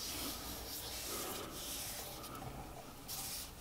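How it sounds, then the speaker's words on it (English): Oak shavings rub against a turning wooden piece on a treadle lathe, a continuous close, soft, gritty swishing that rises and falls slightly with the strokes, with no talking. "using the oak shavings to smooth it as well"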